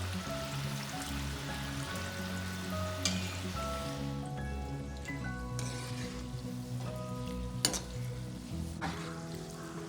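Shankarpali dough pieces fry in hot oil with a continuous soft sizzle and bubbling, steady and close, with occasional small clinks and stirs and no talking.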